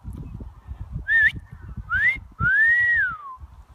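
An African grey parrot imitates a wolf whistle, giving three clear rising and falling whistled notes, the last one long and sweeping, over low background rumble and murmur.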